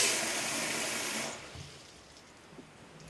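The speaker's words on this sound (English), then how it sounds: "We'll add a bit more water." Water gushes loudly into a homebrew bucket already holding cleaning solution, a steady pour for just over a second before it cuts off into quiet room tone.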